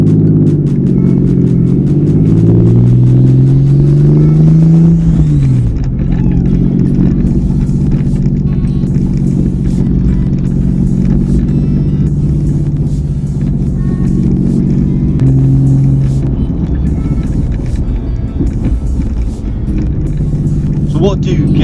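A 1999 Porsche 911 Carrera with its 3.4-litre flat-six, heard from inside while driving: a loud, steady engine drone rising through the gears, with one clear upshift and revs climbing again, occasional voices over it.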